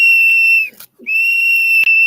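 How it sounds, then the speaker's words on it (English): A loud, shrill whistle is blown close by in two long steady blasts separated by a short breath. "She's got a whistle."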